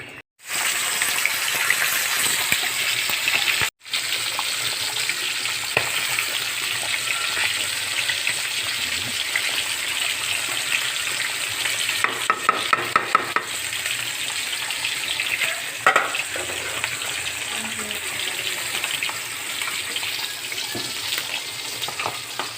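Mung beans (monggo) sizzle and hiss in a hot pan while being stirred, a continuous loud frying crackle with scraping stir sounds and brief clatter, one abrupt cutoff early on, no talk.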